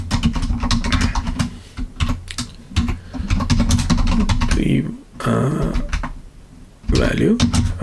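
Rapid clattering keystrokes on a computer keyboard while code is typed, dense irregular clicks in bursts with short gaps, heard close while a person talks over much of it.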